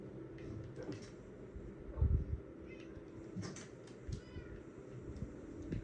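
Cartoonish cat meows rise faintly from a Nintendo Switch video game, scattered over a steady murmur of game background sound, with a soft low thump in the middle.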